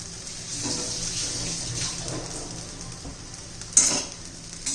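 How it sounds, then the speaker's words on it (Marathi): Boiled potato and salt being stirred into sabudana khichdi: soft, continuous scraping and shuffling of a spoon through the mixture, with a brief sharper clink near the end, fairly quiet and without talking. "व्यवस्थित मिक्स करूया"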